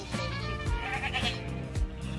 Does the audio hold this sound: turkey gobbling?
no